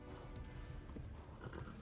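Horse galloping with steady hoofbeats, a continuous rhythmic clatter under a dense, noisy background, fairly faint and distant.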